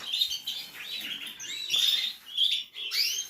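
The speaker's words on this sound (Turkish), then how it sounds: "Hatta şu an duyuyorsanız yavrular bıcırlamaya başladılar." Newly hatched canary chicks in a breeding setup chirp with thin, high, rapid calls in short bursts close by, set against a quiet background.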